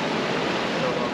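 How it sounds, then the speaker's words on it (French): Ocean swell and waves washing around a sailboat at sea between the Marquesas and Tuamotu islands, a steady close rush of water and wind noise for about a second. "C'est surtout la houle qui est revenue de nouveau un peu."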